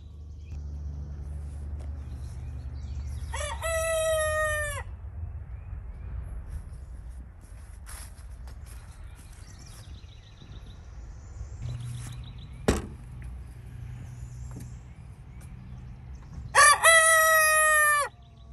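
Rooster crows loudly twice, once near the start and again at the end, with chickens clucking and fowl sounds in between, recorded in a farmyard at feeding time.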